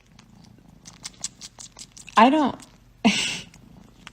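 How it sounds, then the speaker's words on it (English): A pet cat purring up close in a soft, steady rumble, with a person speaking briefly over it. "I got a cat"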